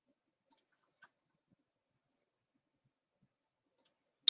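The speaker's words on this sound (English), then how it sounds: "So I'm typing." Computer keys tapped in a few short bursts, a quick cluster near the start and another near the end, crisp and close, with long quiet gaps between.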